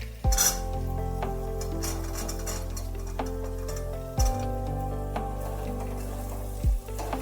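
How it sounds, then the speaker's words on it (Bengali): Green peas being stirred with a spatula in hot oil alongside frying potatoes in a kadai, with steady sizzling and occasional scraping clanks of utensil against the pan. "কড়াইশুঁটিগুলো দিয়ে ভালোভাবে তেলের সাথে একটু নাড়াচাড়া করে নিচ্ছি।"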